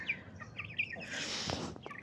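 A rooster gives a few short clucks and chirps nearby, followed by a brief rustle and soft thuds.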